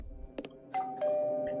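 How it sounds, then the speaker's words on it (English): A doorbell in the video game Dissolving chimes, two ringing tones sounding close and clear after a few soft clicks, in a quiet old hall. "I pressed the doorbell."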